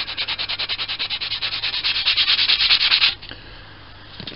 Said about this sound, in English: I'll just tie all that together again with the denibbing pad